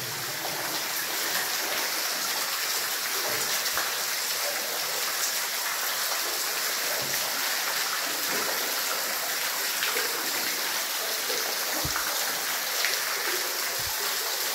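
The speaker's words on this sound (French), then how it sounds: "Ah, la cascade, là." Waterfall cascading at a former quarry, a dense continuous rush of falling water, loud and close, with no voices.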